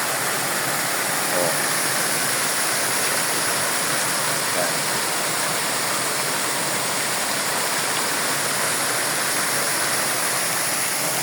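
Kabuayahan waterfall flowing: a steady, loud, unbroken roar of rushing water filling all eleven seconds, close by, with no clear talk over it.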